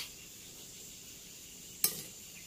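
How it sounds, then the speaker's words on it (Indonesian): A steady soft sizzle of ground spice paste frying in a pan for ayam ungkep, with one brief utensil clink near the end. "Kita goreng dulu sampai bumbunya atau sambal bumbunya nanti kelihatan agak coklat"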